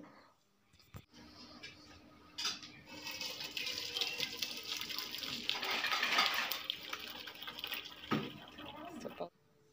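Boiled grape juice is poured into a vessel for straining, giving a steady liquid splash and trickle that builds and then stops abruptly, fairly quiet overall.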